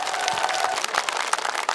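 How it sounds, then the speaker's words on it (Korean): A market-festival crowd applauds and cheers for students, a dense, steady wash of clapping with scattered shouts, fairly loud and continuous with no talking over it. "여러분 응원의 박수"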